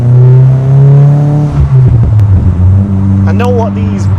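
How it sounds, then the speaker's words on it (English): VW Golf Mk2 GTI fitted with an Audi S3 1.8 turbo engine and a limited-slip differential, revving loudly up close with engine harmonics rising and falling, then a brief high tyre squeal as it pulls away, a voice talking over it. "with the squealing, that sounds like it's got an LSD in it"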